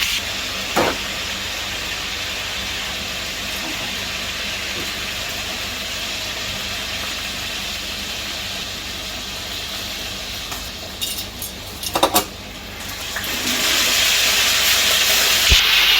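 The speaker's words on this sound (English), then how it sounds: "I realised how much I hate throwing stuff on a pan with hot oil" Food fries in hot oil in a pan while someone cooks at home, a steady close sizzle and hiss running throughout with a few brief clatters near the end.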